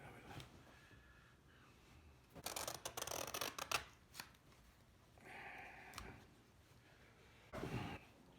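Scissors cut through painting canvas laid out for stretching, a quiet run of rapid snipping and crunching in short bursts with pauses between, close and soft.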